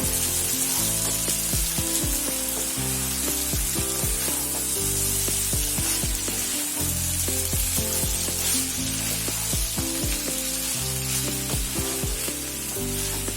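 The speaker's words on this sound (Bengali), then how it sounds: "আবারও খুব ভালোভাবে নেড়ে চেড়ে মিশিয়ে নেব।" Egg chicken chow mein is stirred and tossed in a hot pan, with a dense, steady sizzle of frying and repeated scraping clacks of the utensil against the pan, close and continuous.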